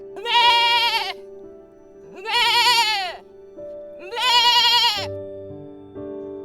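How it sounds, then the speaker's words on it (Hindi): A goat in pain bleats three times, each cry loud, strained and drawn out for about a second, with short pauses between them and a low background tone underneath. "बकरी दर्द के मारे चिल्लाने लगी।"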